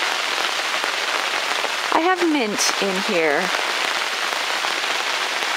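Steady rain falling outside, a dense, even hiss that runs throughout while a person speaks briefly over it indoors near houseplants.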